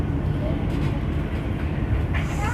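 Steady low rumble and rattle inside the executive class cabin of the Banyubiru passenger train travelling between Solo Balapan and Semarang Tawang, a continuous broadband drone from the moving carriage with no clear talk.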